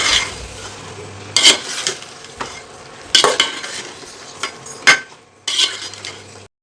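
Narthangai citron pickle being stirred in a pan with fenugreek powder and asafoetida, several loud spoon scrapes and clatters against the pan over a soft background sizzle.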